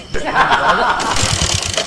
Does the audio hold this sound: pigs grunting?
no